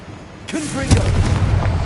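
A fiery Confringo blast spell goes off in Hogwarts Legacy, a sudden booming burst followed by a sustained crackling rumble, loud and close, with a voice speaking briefly just before it.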